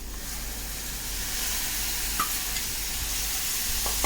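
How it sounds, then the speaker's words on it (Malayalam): Washed bitter gourd pieces drop into softened tomatoes frying in a pan, raising a steady close sizzle with faint stirring scrapes and a couple of light clinks, no voices. "അതിലേക്ക് ഞാൻ പാവയ്ക്ക കഴുകി മാറ്റി വെച്ച പാവയ്ക്ക ഞാൻ അതിലേക്ക് ഇടുകയാണ്."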